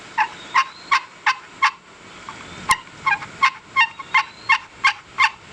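A series of sharp, evenly spaced yelps from a homemade chalked rectangular wooden box turkey call, about a dozen in a row, loud and close with one louder click midway.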